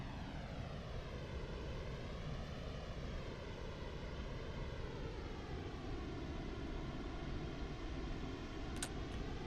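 The Concorde's jet engines in the Prepar3D flight simulator give a constant, steady, droning roar with a slowly wavering whine, even in level throughout, and no one speaks.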